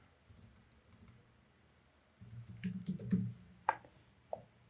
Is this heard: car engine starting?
no